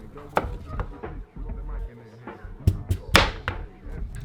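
A knife chopping sweet potatoes into wedges on a cutting board, with several sharp, distinct thwacks at irregular intervals and a heavier cluster of cuts near the end, close and clear with light kitchen handling between strokes.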